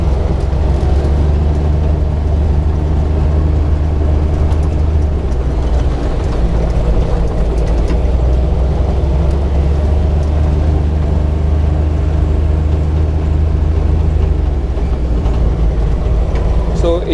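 Inside the cab of an Intimidator 2500 utility truck with a 3-cylinder diesel, a steady loud low drone and rumble runs continuously throughout, with no pauses and no talk.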